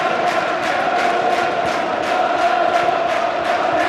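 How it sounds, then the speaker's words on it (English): Rangers football fans in a stadium crowd at a Dundee United match, applauding as a player warms up; a steady, continuous wash of crowd noise and clapping with no voice over it. "Barry Ferguson receiving warm applause from the Rangers fans as he warms up."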